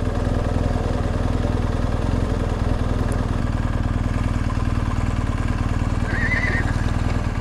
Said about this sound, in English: it's not every day you have a horse in the road